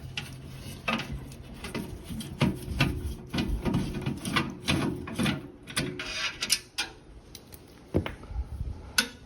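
A long screwdriver loosens a screw at the bottom of a homemade 32 kWh off-grid solar battery, giving close, repeated ratchet-like clicks and small scraping taps in an irregular rhythm.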